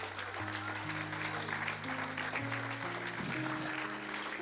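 A church congregation applauds steadily during a Spanish-language sermon, with sustained clapping and a sustained chord from instruments underneath.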